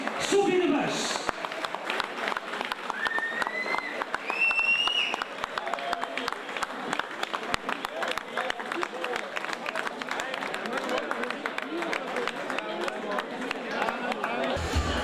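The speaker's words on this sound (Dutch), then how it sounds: "laat nog eens een laatste maal uw applaus weer klinken voor deze laureaten van de Lotto Cycling Club Flanders Ladies Classic, Sophie de Vuist." Outdoor crowd clapping for the podium winners of a women's cycling race in Steenhuize, Belgium, continuous scattered applause with chatter underneath, moderately distant and fairly faint.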